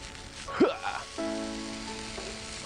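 Hash brown potatoes sizzling in a frying pan, a low steady sizzle with a short scrape or clatter early on and a sustained tonal hum after it.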